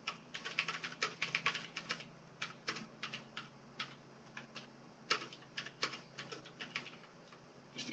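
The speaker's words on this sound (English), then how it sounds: "My keyboard has a tendency to type double." Typing on a computer keyboard with a tendency to register double keystrokes: rapid clusters of crisp, close key clicks in uneven bursts with short pauses, heard alone without talk.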